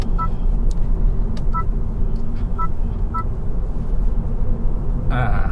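Honda Civic e:HEV RS hybrid driving in sport mode, heard from inside as a steady low road and engine rumble, with a few short electronic chime beeps repeating at regular intervals.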